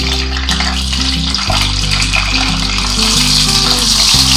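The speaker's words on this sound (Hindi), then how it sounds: "अब मैं इसमें ये प्याज डाल दूंगी कटे हुए।" Chopped onions hit hot oil in a pan for a mince and white bean dish, frying with a loud, continuous close sizzle and crackle, with no talking.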